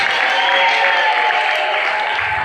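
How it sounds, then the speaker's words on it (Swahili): A church congregation applauds together during a Friday worship service, a dense, steady wash of clapping hands that holds loud and even throughout without a break. "Makofi kwa Bwana Yesu."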